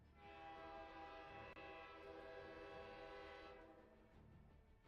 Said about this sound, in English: That sounds like a train klaxon, not a ship one.